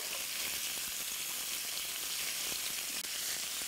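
Chicken pieces browning in a pan for Basque chicken give off a steady, dense sizzle with small pops and crackles, continuous and fairly close, with no voices.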